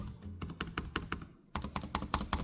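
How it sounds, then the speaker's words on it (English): Typing on the keyboard of a 2025 Asus Vivobook S14 OLED laptop, a close, steady run of quick thumpy keystrokes with a brief pause in the middle, with no talk. "The keys themselves are simply great. They're nice and thumpy"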